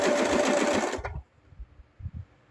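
A sewing machine stitches a plush toy, a loud close whirring run that stops abruptly after about a second, followed by soft handling noises and quiet bumps.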